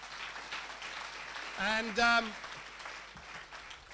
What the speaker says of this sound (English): A round of applause again for the Glee Club, because that was amazing.